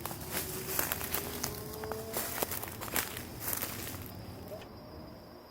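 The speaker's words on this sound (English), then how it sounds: "We hear footsteps." Footsteps during a search for a buried casket, moving steadily through rustling ground cover at close range, with soft scuffs and crunches over a noisy outdoor background.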